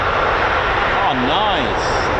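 A KC-135 jet tanker powered by four CFM International F108 engines at RAF Mildenhall gives off a loud, steady roar of broadband jet noise for the whole stretch, with a voice talking over it.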